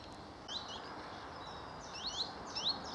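A warbler sings in a short phrase twice, bright thin notes from a distance on a country walk, over steady outdoor background noise.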